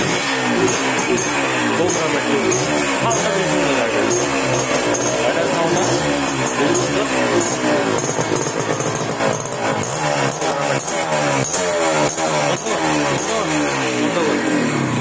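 A second-hand 80cc motorcycle engine runs steadily nearby, a continuous buzzing putter with rhythmic pulsing and slight revs, while someone talks over it.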